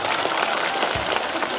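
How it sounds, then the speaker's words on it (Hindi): Dense applause from a crowd at a mushaira poetry gathering, a brief continuous wash of clapping with a soft thump partway through. "सम्मान में जोरदार तालियां बजा दीजिए।"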